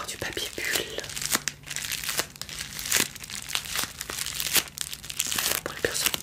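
Bubble wrap protecting a small glass jar is crinkled and handled close up in a quiet ASMR setting, giving dense, continuous crackling with sharper snaps scattered throughout.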